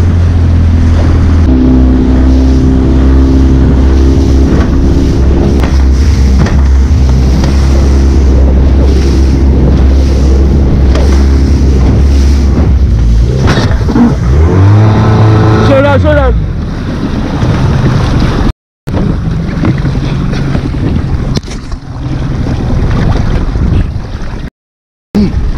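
A boat engine drones loudly on the open sea near Hout Bay during snoek fishing, under heavy wind buffeting and waves, with a low steady rumble and brief dropouts near the end.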